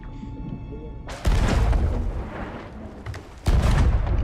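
Ship cannons fire in a video game in two heavy booming bursts, one early and one near the end, each followed by a rumbling tail and scattered crackle.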